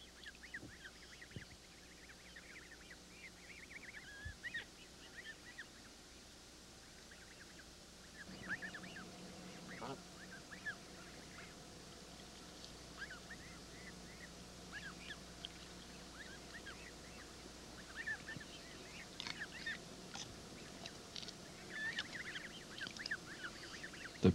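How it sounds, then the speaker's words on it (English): Canada geese calling at a pond that is also home to a beaver family, faint scattered honks over a quiet outdoor background with no talking. "Canada geese also raise their young in this pond."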